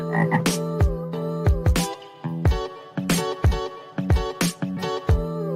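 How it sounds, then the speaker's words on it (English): A frog croaks repeatedly and loudly up close, giving a series of rhythmic, resonant calls in quick bursts with short gaps between them. "The frog."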